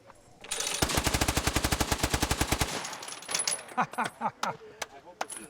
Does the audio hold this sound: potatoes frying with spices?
no